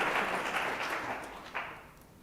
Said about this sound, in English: Please join me to give round of applause to 3 amazing speakers today